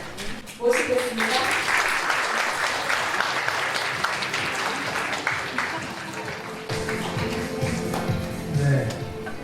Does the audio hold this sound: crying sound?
no